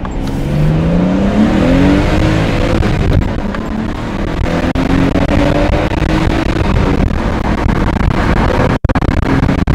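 A Nismo-tuned Nissan Skyline R32 pulls hard in first gear, its engine note climbing steadily in pitch as revs rise, loud and close from inside the car, with a brief dip near the end and no talk.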